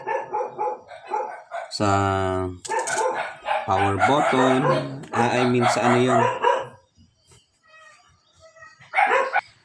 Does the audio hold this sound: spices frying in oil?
no